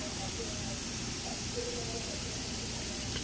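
Potatoes fry on a hot griddle with a steady, even hiss and sizzle throughout, close by and moderately loud.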